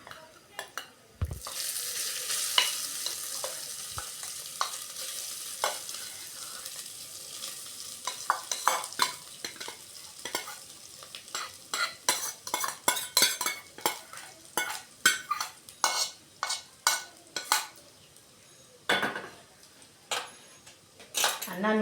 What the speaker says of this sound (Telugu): ఈ విధంగా ఈ అన్నాన్ని ఇప్పుడు ఇందులో వేసుకుందాం